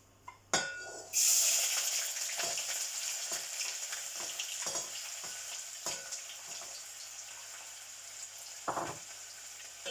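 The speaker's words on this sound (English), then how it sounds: "Now, firstly, I have to add my onions." Onions for lasagna hit a hot pan with a loud burst of sizzling that settles into steady frying, punctuated by several close scrapes and knocks of a utensil stirring.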